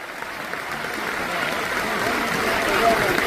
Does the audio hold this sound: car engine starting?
no